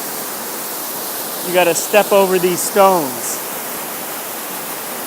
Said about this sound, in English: The waterfall relaxes you.